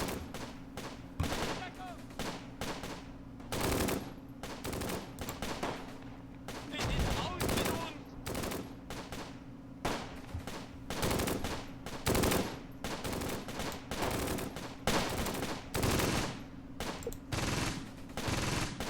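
Gunfire and artillery in the wartime tactical game Close Combat, with dense rattling bursts of small-arms and machine-gun fire and heavy thuds that run steadily throughout, with someone talking over them.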